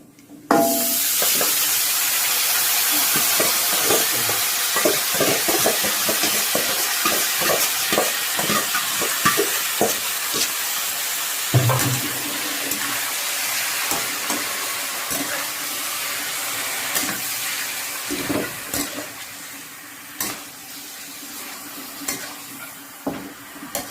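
Pork leg stir-fried in a pan with a spoon, a continuous loud sizzle of hot oil and frying, broken by repeated scraping and stirring clatters that come in irregular bursts, with no voices.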